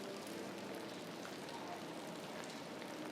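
Steady rain falls on the streets of downtown Singapore's city center, a dense, even hiss with faint patter that stays constant throughout and has no distinct voices.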